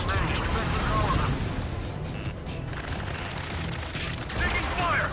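Rapid automatic gunfire and explosive bursts from an Ace Combat 7: Skies Unknown rescue mission rattle continuously under shouted radio chatter and voices.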